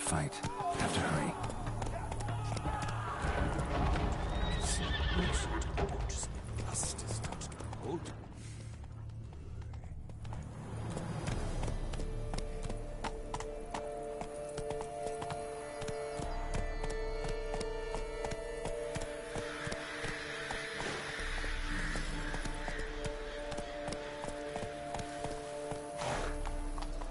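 Roach, the horse in The Witcher 3: Blood and Wine, gallops with muffled, rolling hoofbeats beneath droning game music and ambience, while characters speak over parts of it.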